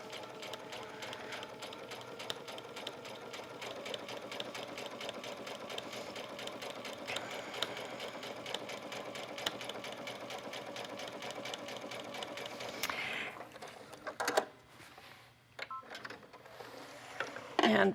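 A sewing machine stitches sashiko lines with heavy bobbin thread in a fast, steady mechanical whir that runs evenly for most of the time, then stops and gives way to a few scattered handling clicks and rustles.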